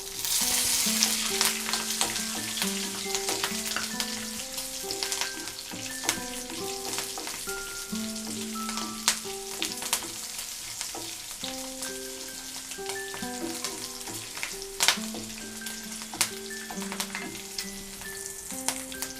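Ginger pieces and green chilies frying with cashews in hot oil, a loud, continuous crackling sizzle with occasional sharper pops, heard alongside steady tonal background music.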